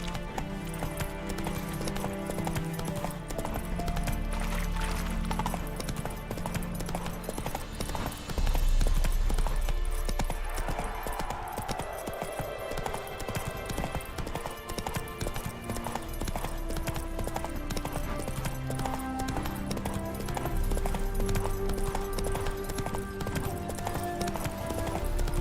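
The horse Roach gallops with a steady, rapid clip-clop of hooves in The Witcher 3: Wild Hunt, over a continuous game music and ambient bed, with a brief whinny partway through.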